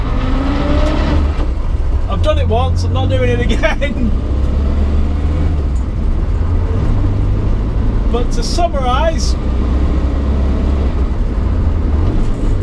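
A Morris Minor car driving on a spring day after restoration, its steady low engine drone and road rumble continuous and close throughout, with someone talking over it.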